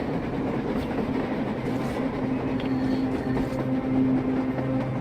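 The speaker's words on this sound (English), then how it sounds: "A damn train on the surface!" A train rumbles along the surface in the Metro Exodus video game, a steady rolling clatter with sustained metallic tones, continuous and fairly close throughout.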